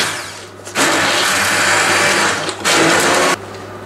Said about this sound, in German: Und jetzt püriere ich das ganz einfach.